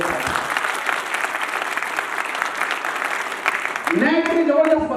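Loud, sustained applause from a meeting audience fills the hall, steady clapping throughout with a brief swell near the end as a voice starts speaking over it.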